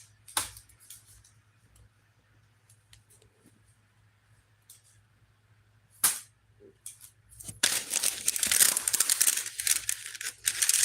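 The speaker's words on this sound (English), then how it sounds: "Sorry about all the paper noise." Paper rustles and crinkles while bills are sorted, with sparse sharp crackles early on, then a denser burst of handling and crumpling toward the end, close to the microphone.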